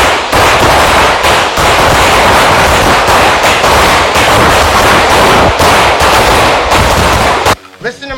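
Rapid gunfire at an outdoor shooting range, a dense continuous barrage of loud cracking shots from several guns for about seven seconds before cutting off abruptly.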